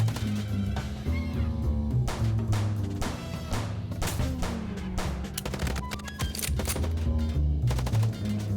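A shootout in the video game Chicken Police, with rapid strings of gunshots and machine-gun bursts over a continuous background music bed, dense and fairly close throughout.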